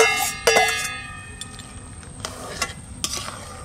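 Local country crabs go into a hot pan and are stirred, giving close metallic clanks and scrapes of a spatula over a light sizzle, in several separate knocks.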